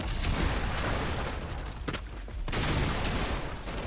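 Rapid bursts of gunfire from a weapon in the video game Fortnite, loud and close, crackling in dense volleys with a brief lull midway before the shooting resumes.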